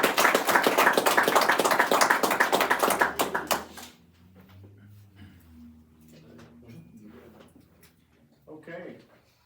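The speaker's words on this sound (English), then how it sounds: "So we'll give y'all a round of applause." A room of attendees at a school district board meeting gives a round of applause: dense, close clapping for about three and a half seconds, then a quiet room with faint shuffling and a brief voice.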